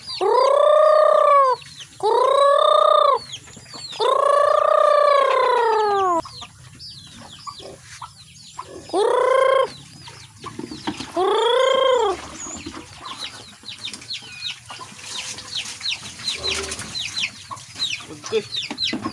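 Farm chickens call loudly nearby in several drawn-out squawking bursts, followed by quicker, scattered clucking and faint background fowl sounds.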